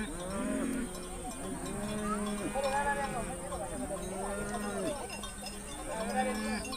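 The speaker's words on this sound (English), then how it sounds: "The killing fields of the night are transformed into places where cattle may safely graze." Cattle graze in Maasai country in Africa by day, with several low moos rising and falling in repeated calls and the faint clank of cowbells, moderately near, under a steady background hiss.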